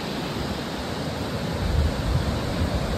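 A fast mountain stream rushes close by on a trek toward Kori in the Nepal mountains, a loud, steady broadband roar of churning water with no talk.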